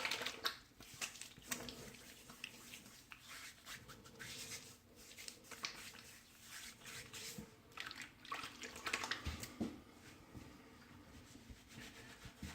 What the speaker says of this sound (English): All right, you can do a quick rinse.